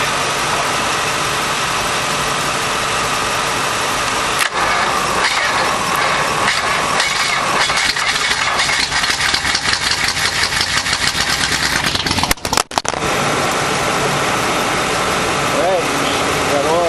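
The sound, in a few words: old car engine running after starting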